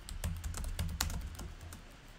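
Someone types a source name on a computer keyboard, a quick run of close, light key clicks in an uneven rhythm with no talking.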